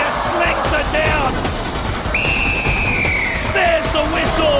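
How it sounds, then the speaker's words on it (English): A referee's whistle at an Australian Gladiators pyramid event sounds one sustained, steady blast over loud crowd noise and commentary, signalling game over. "There's the whistle."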